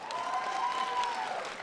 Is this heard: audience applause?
yes